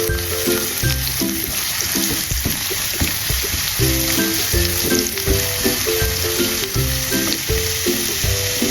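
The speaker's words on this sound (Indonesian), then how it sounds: "Kemudian kita tumis ini bawangnya sampai benar-benar harum." Shallots and garlic sizzle steadily in leftover tempeh frying oil, a loud continuous frying hiss broken by stirring scrapes, with music playing underneath and no talking.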